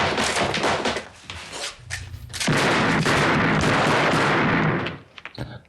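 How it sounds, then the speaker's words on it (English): Gunfire in a shootout scene from the 1976 film Assault on Precinct 13: loud sustained volleys of shots crackling through a dense roar, easing briefly before a heavier barrage and then tapering off. "So this is a big shoot 'em up scene."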